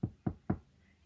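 Three quick, close knocks on a door in an even rhythm, each a short dull thud, followed by quiet.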